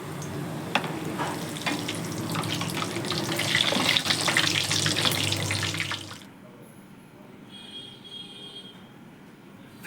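Fish fingers fry in hot oil in a home kitchen with a dense, steady crackling sizzle for about six seconds, then the sound drops to a faint, quieter hiss.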